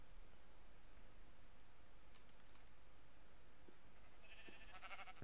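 A Minecraft sheep gives a brief bleat near the end, moderately clear over faint background noise after a mostly quiet stretch.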